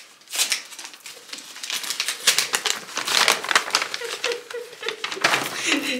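Birthday present wrapping paper printed with a detective-series design crinkles and rustles in repeated bursts as a gift is unwrapped close by, with light background voices.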